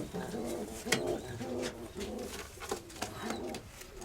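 Breeding-season pigeons in a loft coo repeatedly in soft, rhythmic throaty phrases, close by, with some low background sound that may be faint voices.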